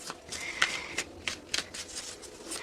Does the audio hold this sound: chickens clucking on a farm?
no